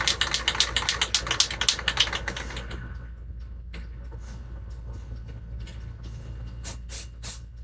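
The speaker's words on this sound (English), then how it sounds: "Gotta shake this stuff up quite a bit actually." A spray paint can is shaken rapidly, its mixing ball rattling in quick, loud clacks for a few seconds, then quieter scattered rattles and clicks follow.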